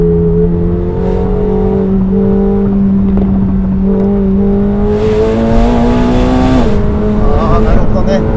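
A 2025 McLaren 750S engine drones and rises through the gears at speed on a rough winding road, with tire noise and a brief whine, sounding from inside the cabin.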